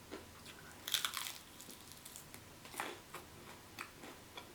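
Crunchy bites into a spicy Korean fried chicken wing, a close, crisp crackle of breading followed by a few quieter, scattered chewing crunches.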